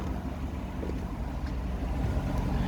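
A 2005 Chevrolet Corvette coupe with the 6-liter LS2 V8, automatic transmission and stock exhaust idles with a steady, deep, rumbling drone, close and continuous with no voices.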